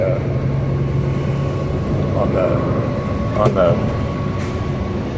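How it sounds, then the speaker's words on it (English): A city bus arrives and runs with a steady low engine rumble and idle hum, with a brief hiss around the midpoint, under faint talk. "Okay, the bus was running."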